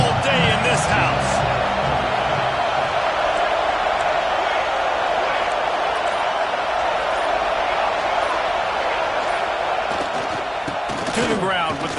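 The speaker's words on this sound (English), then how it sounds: "This crowd trying to show them what it's going to be like all day in this house." A dense, steady roar from a home crowd filling the stadium at a USC college football game, continuous and loud for twelve seconds with a commentator speaking over it at the start and end.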